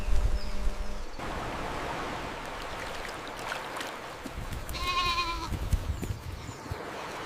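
Mountain goat herd near a forest river, several bleats rising over a constant rustling outdoor background, with one clear, strong call midway.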